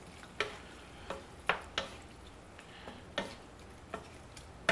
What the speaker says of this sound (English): I'm just going to stir it up and mix it up so the cheese gets nice and melty on there